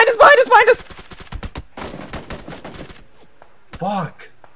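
Rapid gunfire from an SMG and rifles in a multiplayer shooting game, a burst of close snapping shots with loud shouting voices over it, then sparse scattered shots.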